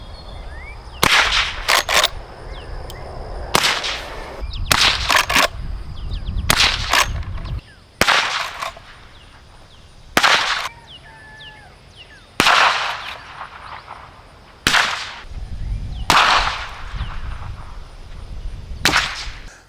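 A rifle fitted with a JMac Customs Banka suppressor fires Fiocchi ammunition in about a dozen sharp, whip-like cracks spaced a second or two apart, heard from the side or front at some distance, each followed by a brief tail.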